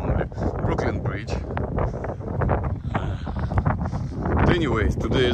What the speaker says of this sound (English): today is so windy